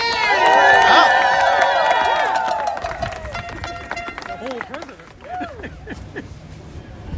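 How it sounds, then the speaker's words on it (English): A crowd at a New York rally of striking Starbucks baristas cheers and whoops loudly as a union leader is welcomed, with scattered clapping continuing as the cheering fades and voices carry over it. "Please start clapping for Randy Weingarten"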